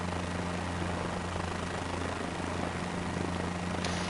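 A helicopter flies in Microsoft Flight Simulator 2024, a steady droning rotor and engine hum with a constant low tone, even and unbroken, with no voices.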